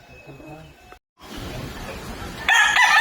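Backyard farm chickens cluck and a rooster calls briefly nearby, with farmyard background noise and a short gap of silence in the middle.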